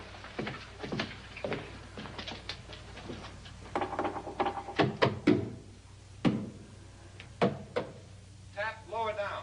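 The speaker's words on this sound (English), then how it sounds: "Now, I'm going to knock on the other wall." Knocking on a wall inside a house during a paranormal investigation, scattered sharp knocks and thuds in short clusters with pauses between, mixed with people talking nearby.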